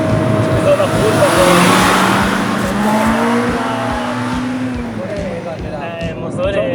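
A Honda Civic EG6 VTi engine with VTEC revs up and down loudly, pitch climbing and falling as it accelerates, with someone talking over it in Italian.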